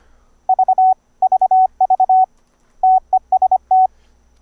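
Morse code sidetone from a keyboard routed through VoiceMeeter: a clean, steady beeping tone keyed in quick groups of short dits and longer dahs with brief silent gaps, loud and alone.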